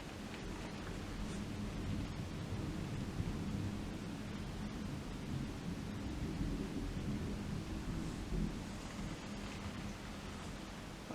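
Thunder rumbles low and distant during a thunderstorm in Leicestershire, UK, a steady dull roll blended with soft rain hiss, faint overall with no voices.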